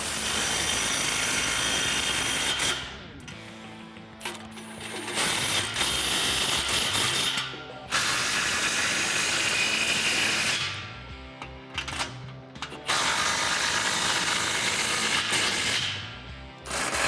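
An impact wrench with a 15 mm socket tightens the exhaust clamps on a 2014-2018 Silverado/Sierra Flowmaster FlowFX dual exhaust. Several long, loud, rattling hammering bursts follow each other close up, separated by short pauses.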